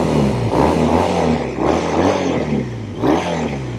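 Triumph Thruxton 900 motorcycle exhaust revving in repeated surges, three or four rising and falling throttle blips with a throaty, close, fairly loud engine note.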